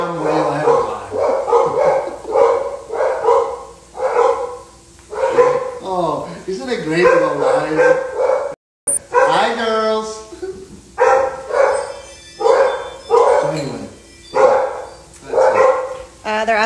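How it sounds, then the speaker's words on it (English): Dogs bark and yip in repeated bursts close by in a home kitchen during a live carbonara cooking session, the barking mixed with a person talking over it. "obviously my dogs are not cooperating"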